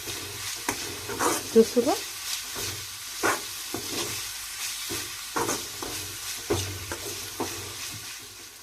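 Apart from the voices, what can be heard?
frying tamarind leaves with onions in a pan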